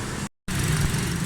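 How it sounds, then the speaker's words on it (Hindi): A Toyota Yaris engine idles after tuning for a pick-up fault, a steady low rumbling hum with a brief gap of silence, heard close and alone. "गाड़ी का साउंड बिल्कुल ठीक है"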